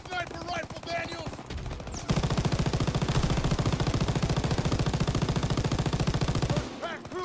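Call of Duty: WWII combat with heavy sustained machine-gun fire, a fast, loud, continuous rattle of shots lasting several seconds, preceded by scattered gunfire and game noise.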